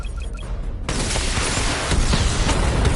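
Missile barrage fire in the Batman: Arkham Knight video game, a dense burst of rapid explosive launches and booms that erupts suddenly after a quiet moment and rumbles loudly to the end.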